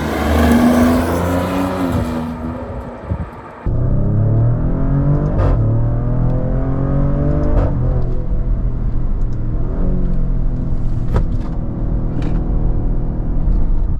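A 2025 Maserati Grecale Trofeo SUV on the road, its engine droning loudly and steadily with rising and falling revs through gear changes, a brief dip near the start, and no voices.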